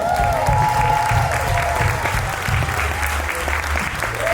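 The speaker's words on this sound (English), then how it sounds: "let's give a round of applause for Earth" A crowd at a talk on healing the earth and biodiversity claps in steady, dense applause, while a voice speaks over it and a slightly whistling tone rises and falls in the background.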